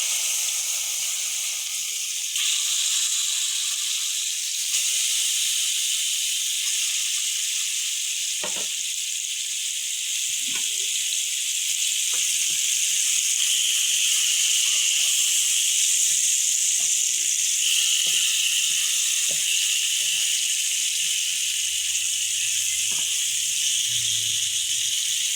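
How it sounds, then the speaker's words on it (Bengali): Pieces of fish for a tomato curry fry in hot oil, giving a steady, loud sizzle throughout with scattered pops and crackles and no talk. "আমি লাল লাল করে মাছগুলি এখন ভেজে নেব।"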